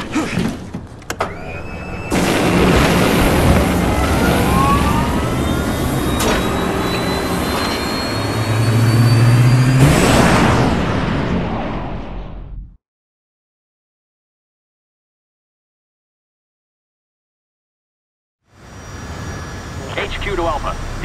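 Aircraft engine in Resident Evil 6 spools up from a low hum into a loud, rising jet roar, holds for several seconds, then cuts to silence before engine noise returns; voices speak over it.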